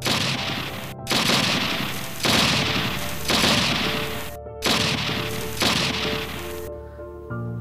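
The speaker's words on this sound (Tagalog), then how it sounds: "lalo na nang makarinig sila ng mga putukan ng baril mula sa ibaba na kanilang daraanan" Loud bursts of gunfire come in about six heavy volleys, each a dense crackling blast that trails off before the next, with brief silent gaps between them.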